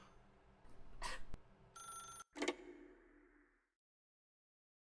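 A telephone rings in the video game The Stanley Parable: two shrill electronic ring bursts with a brief buzzing tone between, close and clear, then a fade into silence.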